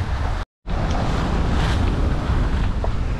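A sailboat beats upwind at sea off Sudan, with constant wind buffeting and the wash of waves against the hull filling the air, broken by a brief dropout of total silence near the start.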